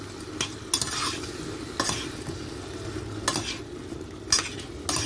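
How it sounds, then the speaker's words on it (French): Shrimp and sardine sauce stirred in a pan over low heat, a steady sizzle with a run of scraping, clinking spoon strokes every second or so, close and without voices. "et je mélange"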